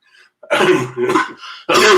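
Several harsh, close coughs and throat-clearing bursts from sinus trouble in a quick series, loud and raspy with short pauses between them.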